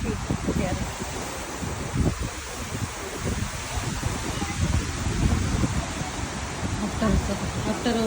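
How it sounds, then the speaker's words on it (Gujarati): Wind blows outdoors near a government library, a fairly faint steady rush with some rustling and buffeting bursts throughout, and a voice comes through faintly in places. "આજે વિન્ડ પણ બહુ જ છે પવન પડતો"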